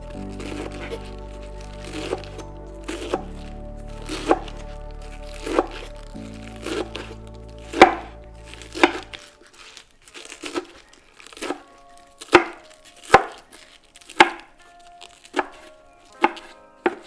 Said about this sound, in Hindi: पालक को भी बारीक बारीक सा काट लेना है